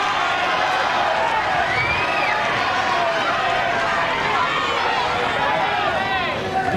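A tennis crowd at the 1999 Australian Open, during the Rusedski versus Draper first-round match, roars with loud, sustained cheering and whooping that fills the whole stretch without a break.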